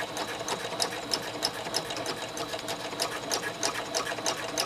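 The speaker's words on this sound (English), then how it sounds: "you can just stick it into your sewing machine." A sewing machine runs in a quick, steady rhythm of stitching fabric, close by, with no talking.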